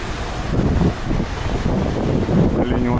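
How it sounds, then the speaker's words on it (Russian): A fresh seaside wind in Alanya, Turkey buffets the microphone with a constant rough rushing roar, and a faint voice is partly buried beneath it. "Ну, можно сказать, что довольно жарко, но довольно свежий ветер все равно."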